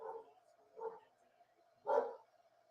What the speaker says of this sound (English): Paisley, woof woofing.